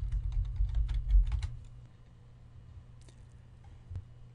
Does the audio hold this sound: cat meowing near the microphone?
no